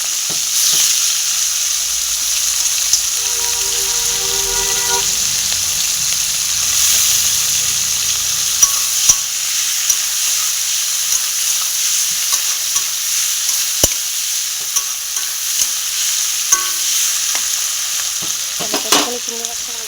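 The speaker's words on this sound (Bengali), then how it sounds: "তেলটা গরম হয়ে গেছে। চিংড়ি মাছগুলো ভালো করে ভেজে নেবো।" Shrimp frying in hot oil, heard as a steady, close sizzle that runs the full length with no voices. Brief clinks and stirring touches break through now and then, and a louder burst comes near the end.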